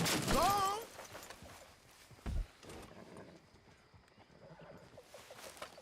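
A horse in Red Dead Redemption 2 gives a loud, wavering whinny at the start, then faint hoof and movement sounds follow, including one brief thump, over low game ambience.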